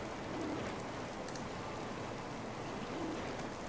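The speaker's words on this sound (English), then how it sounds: "Cause toads to rain from the sky that deal" A Diablo III spell effect rains toads down from the sky, heard as a steady, even hiss of falling rain-like patter that holds at a low level throughout.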